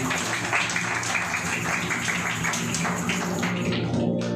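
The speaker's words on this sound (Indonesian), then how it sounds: "Berikan tepuk tangan bagi Tuhan." A church congregation claps together in a sustained round of applause, steady and fairly distant in a large room, with voices mixed in.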